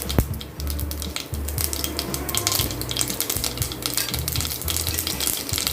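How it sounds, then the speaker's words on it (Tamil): Mustard seeds splutter and pop in hot oil in a pan while making Tirunelveli-style chicken kuzhambu, a loud continuous sizzle with sharp crackles scattered throughout and faint stirring clatter. "கடுகு நல்லா பொரிஞ்சு வரட்டும்."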